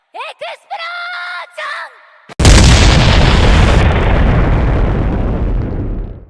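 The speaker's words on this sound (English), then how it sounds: "Just like you mentioned, the explosions." Anime explosion sound effects from One Piece: a few short cartoonish synthetic chirps, then a sudden massive explosion erupts and its roaring blast rumbles and slowly fades over several seconds.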